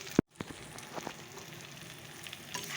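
Tomatoes and sugar are tipped into a frying pan of spiced gravy, followed by a soft, continuous sizzle and light stirring, fairly quiet and close.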